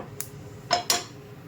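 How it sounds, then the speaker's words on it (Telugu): Mustard seeds pop in hot ghee as a tempering for a sago khichdi, giving three short, sharp crackling bursts, close and moderately loud, over a quiet kitchen background. "చిట్పట్ చిట్పట్లు ఆడిపోతున్నది"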